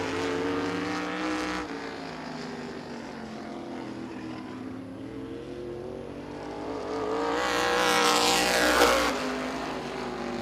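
Robbie Johnson's number 21 race car on a qualifying lap at Birch Run Speedway in Michigan: a steady, harmonic engine drone that swells louder as the car passes near, then eases off again.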